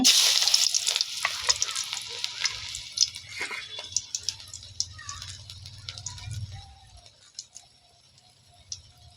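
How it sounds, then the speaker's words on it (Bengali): Hand-rolled dough balls drop into hot oil and fry with a bright, steady sizzle, loudest at first and then thinning into scattered pops and crackles, with a low stirring rumble underneath and no talking. "এবার তেলে ছেড়ে দিব"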